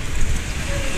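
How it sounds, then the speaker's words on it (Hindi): Heavy rain pours down outdoors in a loud, unbroken wash of hiss and low rumble, with no pauses across the full second. "फ्रेंड्स देख सकते हैं आप, बहुत तेज़ बारिश यहाँ शुरू हो गई है।"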